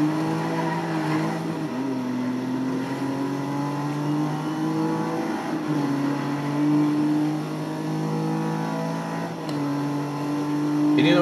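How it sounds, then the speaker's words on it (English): Aston Martin engine in Need for Speed Most Wanted, a loud continuous growl with rising and falling revs and gear-shift dips, heard close alongside tire squeal and racing road noise. "It sounds like an old Aston Martin, which is really cool."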